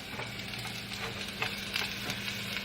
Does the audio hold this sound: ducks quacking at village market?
no